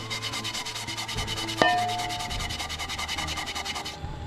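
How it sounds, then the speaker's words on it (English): Scouring pad scrubbing rust off Morris car hubcaps, fast rhythmic close-up rasping strokes with a brief metallic ring partway through. "I'll be scrubbing them with the scouring pad thing."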